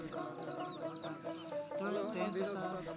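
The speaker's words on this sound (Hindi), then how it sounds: "सभी चूजों को चावल खिलाया जा रहा है" Young chicks being fed rice at a Sohrai village festival, clucking and cheeping in short overlapping bursts close by, with soft background chatter.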